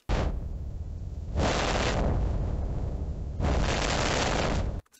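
Cinematic, AI-generated intense burst of fire sound effect: loud, close roaring whooshes that swell in three broad surges and then cut off abruptly.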